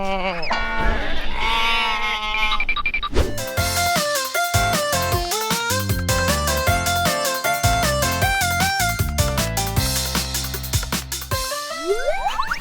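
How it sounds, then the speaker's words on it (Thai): Sheep and lambs bleat repeatedly at a farm, several overlapping wavering calls in a noisy chorus, some near and loud, continuing without pause. "ตอนนี้ แกะทั้งหลายก็ เรียกแม่ แม่อยู่"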